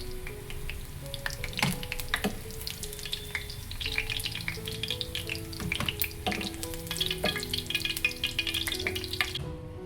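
Wheat flour snacks frying until crisp in hot oil in a pan, a continuous bubbling sizzle with occasional stirring clinks, close and steady with no talking.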